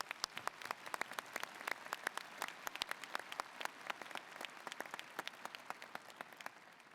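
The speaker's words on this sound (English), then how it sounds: "Let's give them a round of applause." An audience applauds at the Ohio University 2019 Fall Commencement, a dense, even patter of many hands clapping throughout. It sounds fairly distant and soft, with no speech over it.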